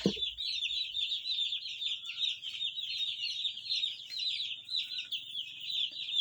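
Newly arrived chicks peep in a dense, continuous high chorus, close and lively, with a faint low hum underneath and no talking.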